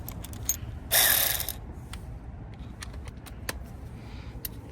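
A 17 mm socket ratchet drives in hub bolts during a rear wheel bearing and hub replacement on a Honda Accord, with close rapid clicking bursts and one loud whirring spin near the start.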